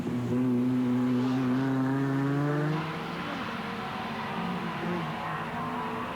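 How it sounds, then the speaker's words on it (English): Touring cars race at the 1990 Sandown 500, engines howling past with rising pitch that sweeps down as they go by, loud at first, then settling into a steadier, more distant roar. "you're probably doing over 160, 170 kilometres an hour around the bend, especially at the top of the hill where Glenn's going now"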